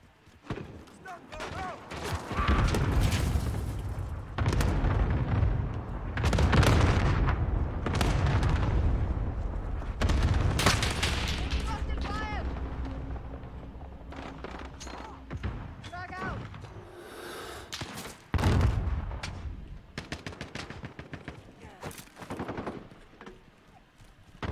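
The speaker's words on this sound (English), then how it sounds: "Ally cluster strike inbound." An allied cluster strike lands in a video game firefight: a string of loud, booming blasts and rattling gunfire bursts that rise and fall over about 25 seconds, with someone talking over the action.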